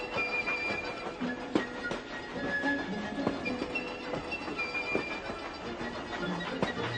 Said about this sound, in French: Un train avance dans la montagne italienne.